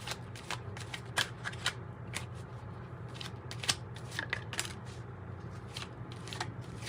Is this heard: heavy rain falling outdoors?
no